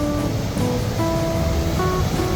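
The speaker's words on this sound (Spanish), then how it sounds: "imponente la cascada" A powerful waterfall near El Chaltén, Argentina, on the way to Lago del Desierto, swollen with heavy spring flow, gives a steady, dense roar of rushing water with a faint tonal hum underneath and no voices.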